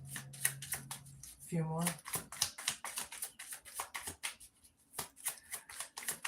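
Tarot cards shuffled and dealt in a run of quick papery flicks and riffles, close and fairly loud, with a person speaking briefly among them.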